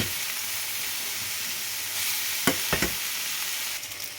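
Boiled pasta stirred and mixed in a hot pan, a constant close sizzle with a few sharp clacks of a spoon against the pan near the middle.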